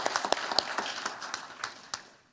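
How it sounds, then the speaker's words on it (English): Applause from a banquet audience honoring the event organizers, a burst of many hands clapping that thins out and fades over a couple of seconds. "let's please give them another round of applause"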